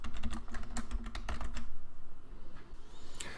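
Quick, close keystrokes on a computer keyboard clatter in a fast irregular burst, then thin out into a few scattered taps and a final click, with no talking.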